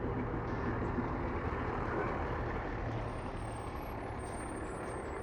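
Fire trucks pulling back into a Detroit-area suburban firehouse with drive-through bays give a steady, loud diesel rumble with hissing air brakes and reversing beeps throughout.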